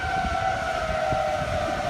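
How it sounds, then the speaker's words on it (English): Steady, wailing tornado sirens in downtown Dallas hold a constant pitch over low rumbling background noise during a tornado warning, sounding moderately distant. "So tornado sirens are going off in downtown Dallas right now."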